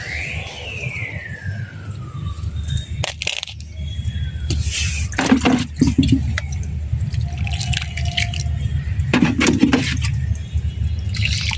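Water splashes and drips while a plant pot is rinsed and scrubbed in a rooftop garden, with irregular trickles, a few sharp knocks and scrapes, and brief bursts of pouring between quieter dripping moments.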